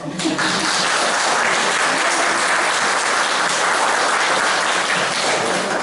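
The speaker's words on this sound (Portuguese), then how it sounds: "Eu queria pedir uma salva de palmas para o Alejandro." Audience at a Spiritist centre talk on psychiatric disorders giving a guest speaker a welcoming round of applause, loud, dense and sustained clapping from a full room.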